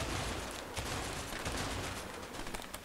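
Dense, continuous gunfire from the co-op video game A Way Out, with overlapping shots forming a steady fusillade for the whole stretch, loud and busy with no clear gaps.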